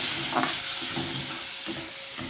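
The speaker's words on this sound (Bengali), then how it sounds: "এবারে আমি টমেটোটা দিয়ে দিলাম টমেটোটা দিয়ে কিছুক্ষণ কষিয়ে নেব" Tomatoes frying with ginger-garlic paste and spices for a prawn curry, a dense close sizzle with intermittent stirring scrapes in the pan.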